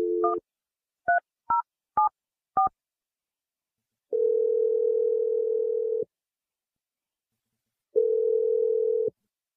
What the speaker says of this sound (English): Let's call Nicole and see if she answers and what she has to say